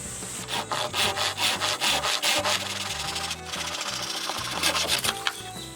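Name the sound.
pipe saw for PVC pipe cutting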